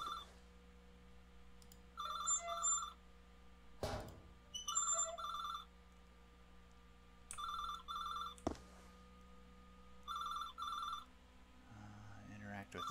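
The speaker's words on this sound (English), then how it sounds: "Where's the phone? I can hear it ringing." A telephone rings inside a horror video game, sounding in repeated bursts of trilling electronic rings separated by pauses, clear and fairly loud over a low ambient hum with occasional thuds.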